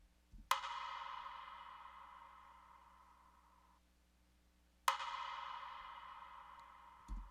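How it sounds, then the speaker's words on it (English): A sampled wooden percussive hit layered with a snare strikes twice, about four seconds apart, each with a bright attack that rings out and decays slowly, with a softer hit at the very end. "wood sound is what the sample is called."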